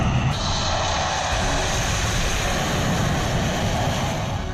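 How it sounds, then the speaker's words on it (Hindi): Fighter jets such as Jaguar and Mirage roar during a rehearsal on the Purvanchal Expressway airstrip, a loud, steady, broadband engine rumble that fills the whole stretch without letting up. "इसका ट्रेलर आप एक्सप्रेसवे पर रिहर्सल करते लड़ाकू विमान की गर्जना से समझ सकते"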